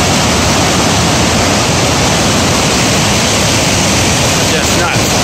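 Glacier meltwater thunders through a swollen, furious river, a loud, steady broadband roar that fills the whole clip without letting up.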